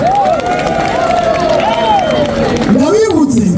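A packed audience at a comedian's stage show applauds and cheers in a steady, continuous wash of clapping and crowd noise. A voice rises over it with sweeping, drawn-out tones.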